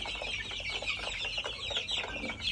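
A flock of one-month-old white kelso gamefowl chicks peeps and clucks continuously on a Philippine farm, with many overlapping high calls and a low background rumble.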